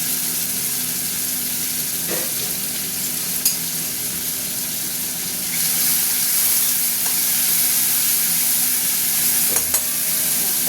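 Onions frying in oil in a pan for an okra curry, a steady close sizzle and hiss running throughout with a few faint stirring clicks, slightly louder in the second half, with no talking.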